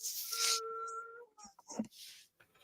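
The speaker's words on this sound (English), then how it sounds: "Man, I heard that howling again." A drawn-out tonal howl rises briefly in the Valheim game world, thin and steady at moderate volume, followed by a voice talking and faint breathy noises.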